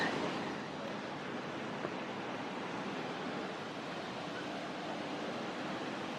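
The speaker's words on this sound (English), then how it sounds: "Okay, so this is the actual Rainbow Falls, the only one that's in this park?" Rainbow Falls in Hilo, Hawaii, pours in a steady, unbroken roar of falling water, dense and even throughout, with no voices.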